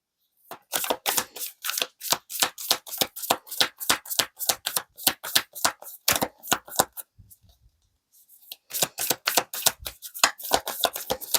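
Tarot cards shuffled by hand in rapid, rhythmic riffles of sharp flapping snaps, close and loud, pausing for a moment before the shuffling starts again.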